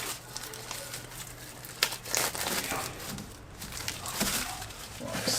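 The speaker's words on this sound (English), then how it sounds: "we've got the new filter here, and we just want to obviously unwrap it" A new oil filter for a Land Rover Perentie being unwrapped, with close plastic crinkling and rustling plus a few sharper tearing crackles scattered across a few seconds, and no speech.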